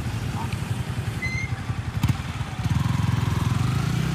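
Motorcycle engine during a riding test on a trial course, a steady putter that rises into a faster, louder rhythmic throb as the bike moves off, mid-distance, with a voice speaking over it.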